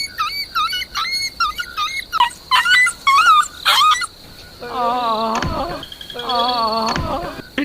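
A dog beaten with a stick by a sweet-maker in a cartoon animal story lets out a quick run of sharp, high yelps, then longer, quavering whimpering cries.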